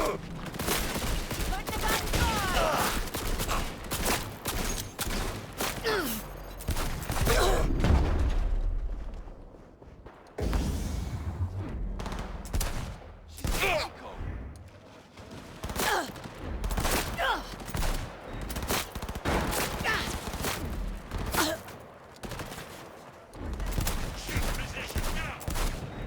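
Heavy gunfire in Cyberpunk 2077: Phantom Liberty: dense volleys of shots and bursts with booming impacts, loud and chaotic, with a brief lull midway before firing resumes, voices occasionally heard under the battle.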